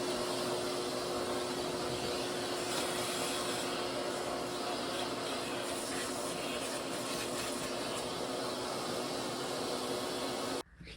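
A vacuum cleaner hums in a steady, continuous whoosh while sucking up gasket particles from a Ford 302 V8 engine during a roller lifter swap, then cuts off abruptly near the end.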